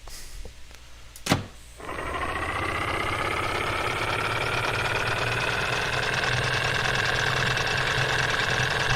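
A diesel generator engine in the Escape Memoirs video game cranks after a brief sharp click, then settles into a loud steady whine and drone that runs unbroken to the end.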